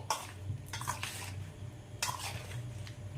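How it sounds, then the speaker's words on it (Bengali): Cut mango pieces being mixed by hand in a bowl with salt, turmeric, chili and a roasted spice mix give soft, quiet squelching and rustling strokes in short bursts, with no voices. "মাখিয়ে নিচ্ছি নুন, হলুদ, লঙ্কা আর যে ভাজা মশলাটা তৈরি করেছিলাম সেটা দিয়ে"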